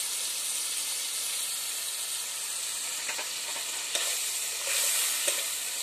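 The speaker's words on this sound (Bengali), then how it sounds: "মশলাটা আমার ভাজা হয়ে গেছে।" Spices with chili powder frying in a pan, a steady close sizzling hiss with a few small crackles and pops, no voices.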